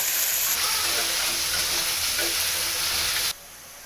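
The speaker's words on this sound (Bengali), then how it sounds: "এখন আলুও ভেজে নিচ্ছি" Potatoes frying in a pan give a loud, dense, steady hiss and sizzle heard up close, cutting off abruptly near the end.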